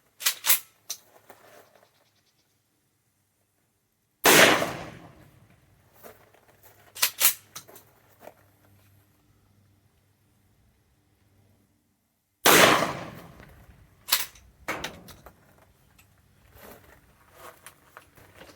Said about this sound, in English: just went through 4 rounds there, and you see on all of them had a failure to eject